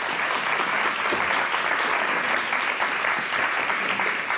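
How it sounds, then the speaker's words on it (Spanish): Loud, even applause from an audience at a mathematics talk, a dense, unbroken clatter of many hands clapping that holds steady for several seconds. "Dadles un aplauso, por favor."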